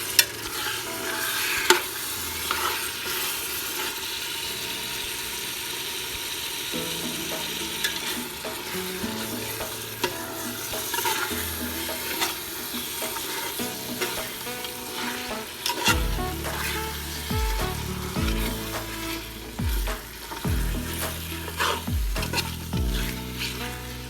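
Beef perattu fries in a pan and is stirred repeatedly, with a steady sizzle and recurring scraping strokes that grow busier and louder toward the end.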